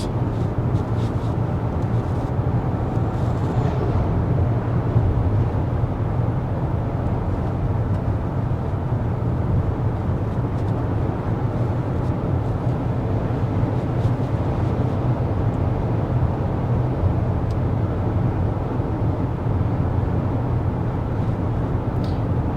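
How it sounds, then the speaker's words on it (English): Steady broadband road and wind rumble inside a 2024 Hyundai Santa Fe Calligraphy cruising at 55 mph, with the fan on its lowest setting; a constant low drone fills the cabin with no talk. "let's go ahead and get our sound level reading going 55 miles an hour in this the most luxurious Santa Fe"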